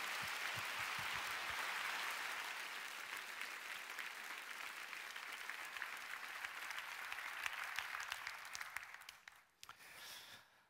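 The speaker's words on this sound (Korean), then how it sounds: "감사한 목사님 나오실 때 힘찬 박수로 환영하며 맞이하겠습니다." A church congregation at an evening prayer meeting gives a pastor a long, steady round of applause that stays dense and even, then thins out and stops near the end.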